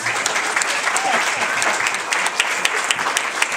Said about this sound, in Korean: 오늘 잘 잡았다고 큰 박수 한번 부탁드릴게요